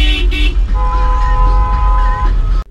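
Car horns honking in Cairo night traffic: a couple of short toots, then a sustained horn blast over the rumble of engines, all close and loud.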